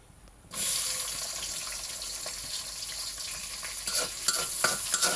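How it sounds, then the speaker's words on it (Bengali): Chopped onions frying in a pan with beef and taro nearby, a loud continuous sizzle starting abruptly after a quiet moment, with rustling stirs and light clatter of the spoon toward the end. "পেঁয়াজ ভালো করে নাড়তে হবে"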